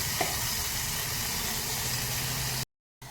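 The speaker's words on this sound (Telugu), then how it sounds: "వెంటనే వేగిపోతున్నాయి ఆవాలు" Mustard seeds and tomato sizzling in hot oil in a pan, a steady close crackling hiss that runs continuously before cutting out briefly near the end.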